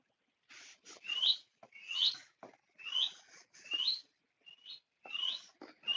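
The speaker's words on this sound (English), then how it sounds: "I'm locked with the birds." Pet birds in an indoor room give repeated bright chirping calls in short bursts, close and fairly clear, with quiet gaps between phrases and no talking.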